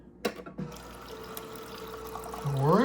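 Water runs in a soft, steady stream from a Kenmore Elite Whirlpool refrigerator door dispenser after its actuator pad was replaced. It pours quietly for a couple of seconds after a few light clicks, and a voice begins at the end.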